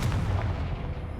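A Confringo blast spell in the video game Hogwarts Legacy, a single deep booming explosion that rumbles and fades over about a second.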